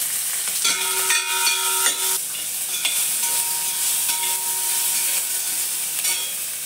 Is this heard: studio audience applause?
no